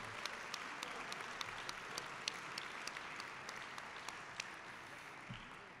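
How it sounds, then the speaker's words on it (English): A university panel audience applauds in a steady, dense wash of many hands, fairly faint and distant, with a few sharper individual claps standing out and no talk over it. "you may applaud"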